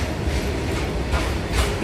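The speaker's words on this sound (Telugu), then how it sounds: "ట్రైన్ వచ్చే టైం అవుతుంది." A passenger train at Nellore railway station, heard as a steady low rumble of rolling railway cars that carries on without a break, with faint rhythmic surges that suggest wheels passing over rail joints.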